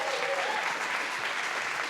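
Applause from a studio audience welcoming guests on a comedy show, a dense, even roar of many hands clapping that holds steady throughout, with a faint voice briefly audible early on.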